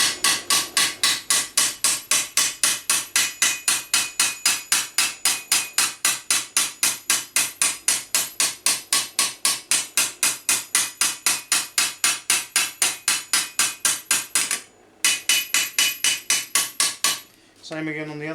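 Hammer strikes on metal armour held against a straight edge to sharpen a crease, a steady fast run of evenly spaced, ringing close-up blows, briefly pausing near the end before a few more taps.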